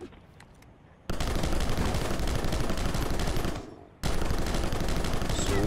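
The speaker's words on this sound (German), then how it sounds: "einfach mal alle kaputt zu schießen" Rapid automatic gunfire from shooting enemies in the video game Rocketbirds, two sustained loud bursts of several seconds each with a short quiet gap between them.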